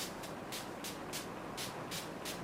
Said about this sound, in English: this one is the LA Girl Pro Setting Spray, and I'm just going to use this to set my entire face.